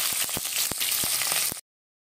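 Small onions dropped into hot oil with popped mustard seeds, sizzling and crackling loudly with sharp pops throughout before cutting to brief silence near the end.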